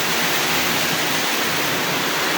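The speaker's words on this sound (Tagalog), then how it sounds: "Tuloy-tuloy talaga ganyan kalakas ang ulan." Heavy rain pours on a house in Taysan, Batangas, in a steady, dense roar that holds at a constant loudness the whole time, with no voices.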